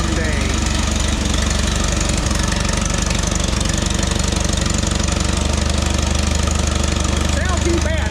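An Allis-Chalmers D-17 tractor engine runs steadily up close, a loud rumbling chug with a knocking rhythm throughout.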